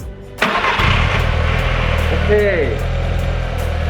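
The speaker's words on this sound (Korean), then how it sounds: "비로소 시동을 걸어봅니다." A tuned 1.8T engine in a fourth-generation VW Golf cranks and catches, then settles into a steady idle. Loud and close, with a brief spoken word just before it fires.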